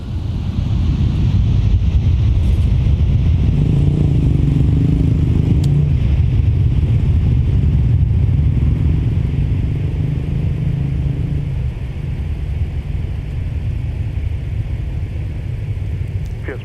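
An airliner takes off from runway 12 left at MSP airport, a heavy continuous low rumble that holds steady and swells slightly, heard at a distance with no talk over it.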